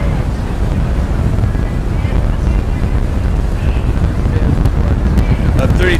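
A headwind gusts across the water during a rowing race, a loud continuous roar of wind buffeting the microphone with rushing water beneath it, steady throughout.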